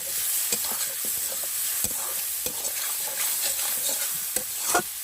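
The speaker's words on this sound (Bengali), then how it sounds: "মশলাগুলো আমি 4-5 মিনিট আমি কষিয়ে নেব।" Spices with turmeric and salt frying and being stirred in a pan for a village-style snakehead fish curry, a steady close sizzle broken by scraping stirs and small spatters, no talk.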